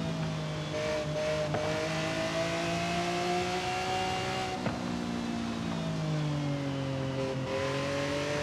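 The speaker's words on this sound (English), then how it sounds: "This is definitely a race car." A race car revving in Forza Horizon 5. Its engine note climbs and falls in pitch, steady and fairly loud, with no talk over it.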